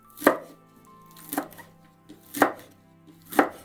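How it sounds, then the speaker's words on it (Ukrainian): A knife chops arugula on a cutting board in four sharp, evenly spaced strokes about a second apart, close and clear with no talking. "А зараз буду кришити руколу."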